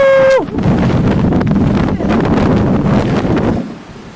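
Strong wind buffets loudly and continuously on Kruglitsa mountain along the South Ural trail, roaring with gusts, after a brief electronic beep at the start; it eases off near the end.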